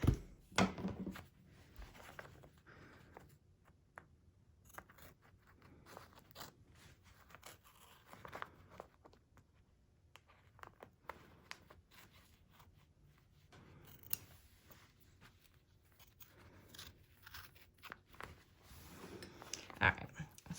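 Small scissors trimming threads from a machine-embroidered blanket in a hoop, with repeated soft snips and crunchy cuts scattered throughout and a sharper snip near the end, nearby and quiet.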